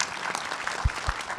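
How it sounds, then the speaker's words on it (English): Dense audience applause at a comic convention panel, a steady wash of many hands clapping at once, with a couple of low thumps partway through. "A round of applause for that."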